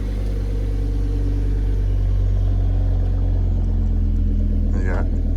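A Ford Focus ST Mk2 exhaust idles with a deep, loud, steady rumble close by, a constant low throb with a brief higher burst near the end.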